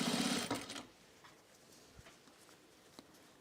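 A sewing machine stitching a clear vinyl bag runs in a loud, fast whir for under a second, then stops, leaving only faint taps and handling noises at low level.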